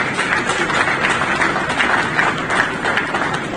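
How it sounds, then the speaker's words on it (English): A crowd applauds a guest at an event, with continuous broad clapping that stays even and fairly loud throughout. "So please give her a round of applause."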